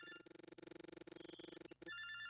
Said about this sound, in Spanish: ¿Quién me está llamando a estas horas?